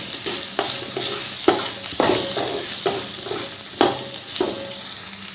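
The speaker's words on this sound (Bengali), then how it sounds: "আদা মাটাটা একটু তেলের সাথে মিশিয়ে নিই" Ginger paste sizzles in hot oil alongside fried potatoes, with a spatula scraping and stirring in regular strokes about once a second over a steady close-up hiss.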